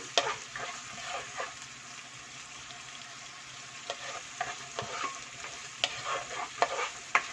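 Sliced medium onion frying in a pan for a tofu brown rice biryani, a steady sizzle broken by scattered scraping stir strokes, close and fairly quiet, with no voices.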